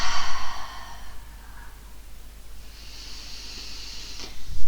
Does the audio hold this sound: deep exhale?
yes